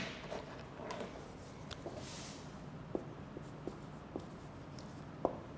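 Marker or chalk writing on a board during a lecture, faint scratchy strokes and occasional sharp taps against a quiet room hiss, no speech.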